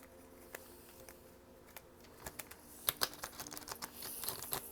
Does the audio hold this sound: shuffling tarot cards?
yes